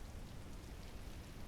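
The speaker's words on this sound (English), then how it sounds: "we got some drizzle, some light rain going on" Light rain in the Microsoft Flight Simulator 2024 video game, a steady, even hiss of falling drops with a soft low rumble underneath, constant throughout with no talk.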